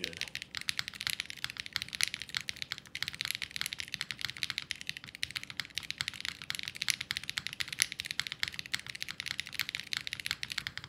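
Rapid, steady typing on a mechanical keyboard fitted with Polybius keycaps, crisp close clacks in a continuous run with no pauses, heard alone.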